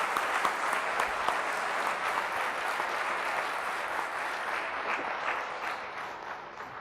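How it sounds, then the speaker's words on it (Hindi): Loud, dense applause from a church congregation, many hands clapping together in a continuous roar that eases slightly toward the end, with no speech over it. "जोरदार तालियों से खुदा के नाम पे"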